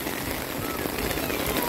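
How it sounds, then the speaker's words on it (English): Heavy rain pours steadily during the rainy season in Senegal, a dense, continuous hiss of drops hitting surfaces with no breaks, loud and close throughout. "It's totally raining today. So much rain."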